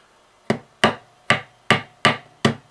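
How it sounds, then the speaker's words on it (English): Seven sharp, evenly spaced taps of a small hammer striking a pin to drive it out of a link of a Citizen watch band, crisp and close with brief decays and nothing else heard. "and get a small hammer"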